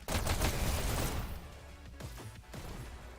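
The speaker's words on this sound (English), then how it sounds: "Togo rocking those SMGs." SMG fire in a VR shooter video game rattles out in dense rapid bursts, loud at first and then thinning into scattered shots and distant crackle.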